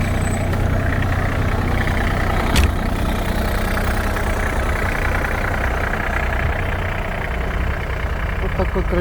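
An ISEKI SIAL243 mini tractor of 24 horsepower, with a heated cab and still cold, idles steadily with a constant low mechanical drone and one brief sharp click partway through.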